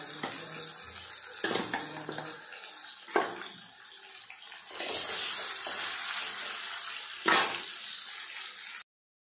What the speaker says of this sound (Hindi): ये देखो कितना अच्छा से फ्राई हो रहा है हमारा मच्छी।